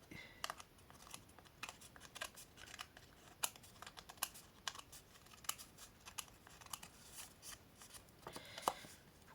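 A blade slices through paper card for a butterfly card craft, producing faint, close, irregular clicks and scraping strokes in short bursts, with quiet pauses between them. No one talks.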